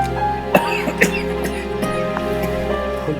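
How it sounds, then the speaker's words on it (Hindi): A few sharp coughs close by over a steady humming background. "जरा सी खांसी है।"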